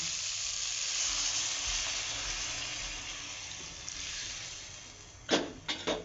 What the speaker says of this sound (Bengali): আমি এবারে গরম জলটা এর মধ্যে দিয়ে দেব।